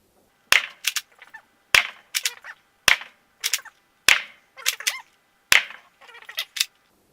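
A modified Deadpool Kronos Nerf blaster fires five aftermarket foam rounds, each shot a sharp close snap followed by quick mechanical clatter, evenly spaced and loud, with no talking.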